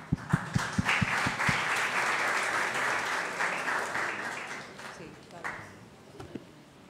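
Applause at a ceremony recognizing a representative of the Patronato Nacional de Ciegos, a burst of clapping that follows a few sharp low thumps, holds steady, then fades into a room with voices.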